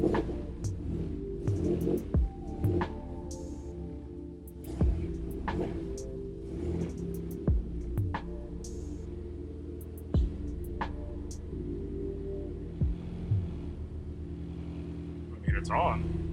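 A Mazda Miata engine running, with repeated sharp throttle blips over a steady low rumble and several distinct revs spread across the stretch, close to the microphone.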